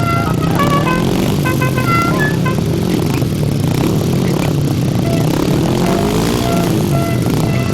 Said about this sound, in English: So engines go a little bit quiet again as we wait the riders to settle in for the restart